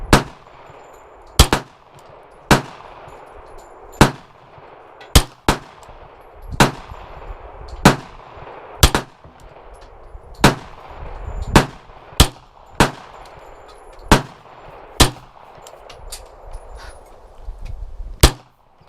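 At an outdoor shooting range, a Taurus Beretta knockoff pistol with titanium nitride coating fires about fifteen sharp, loud shots at uneven intervals, each cracking and ringing out briefly over quiet background.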